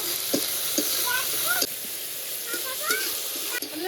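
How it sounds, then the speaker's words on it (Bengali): Cut taro stolons with torn green chilli, turmeric and salt fry lightly in a pan, making a steady close sizzle with a few scattered stirring scrapes and small bubbling chirps. "আগে থেকে কেটে রাখা কচুরলতি, কাঁচা লঙ্কা ছেঁড়া, অল্প একটু হলুদ গুঁড়ো, মতো লবণ, হালকা করে একটু ভেজে নেব।"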